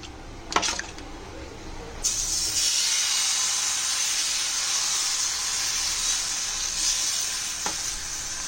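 Onions sizzle loudly in hot oil on a tawa after a couple of clatters, a steady bright hiss continuing close by with a brief clink near the end.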